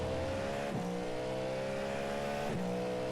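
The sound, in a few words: Cadillac GT race car at full throttle, iRacing video game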